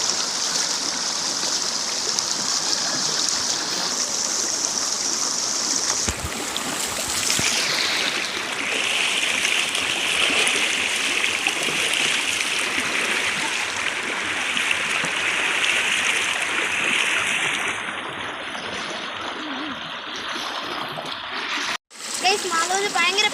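Clear water rushing at a riverside picnic spot, a constant loud splashing stream flow that runs the whole time, with voices speaking faintly over it.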